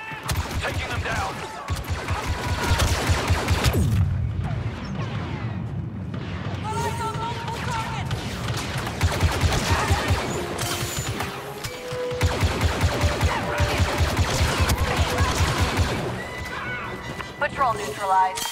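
Sustained rapid blaster gunfire in Star Wars Battlefront II, dense bursts of shots with booming explosions, running almost continuously with in-game voices speaking over the fighting.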